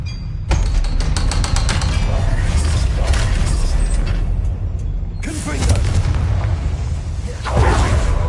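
Confringo fire spell explosions in Hogwarts Legacy, a series of deep booming blasts with bursts and crackling debris, loud and close, recurring several times.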